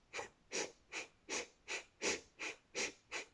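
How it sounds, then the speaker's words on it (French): Forceful rhythmic nasal breathing of bhastrika fire breath, eight sharp, evenly paced puffs about every half second, close and clear with no talking. "Donc Bastrika, respiration du feu."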